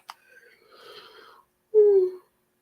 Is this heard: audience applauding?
no